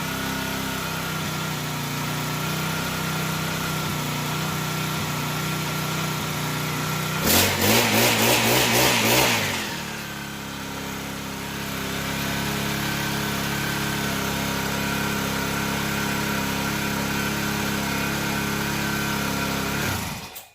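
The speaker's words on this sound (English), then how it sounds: "I highly, highly recommend the Eskimo P1 rocket auger" An Eskimo P1 rocket ice auger engine, started after months unused, runs steadily and close by, with a loud revving surge in the middle before it settles back to an even idle and then cuts off at the end.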